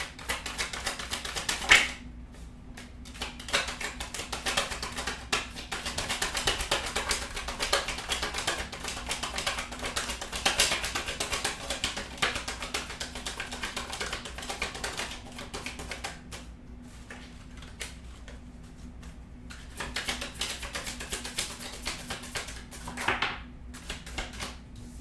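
Tarot cards being shuffled and drawn for clarifiers during a reading, giving a steady crisp riffling and tapping patter that runs for most of the stretch, with brief quieter gaps and no talking.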